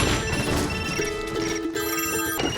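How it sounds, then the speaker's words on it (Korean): Several mobile phones ring all at once in a film scene, strapped to a child's body and a bedroom window in a world where noise kills. The overlapping electronic ringtones hold steady and loud over a dense, noisy background. "그리고 일제히 벨소리가 울리기 시작합니다"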